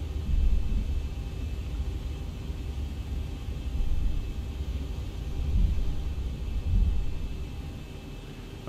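A regional jet airliner passes at Chicago O'Hare (KORD) in the X-Plane 11 flight simulator, heard as a steady low broadband rumble that swells and fades several times, with no voices.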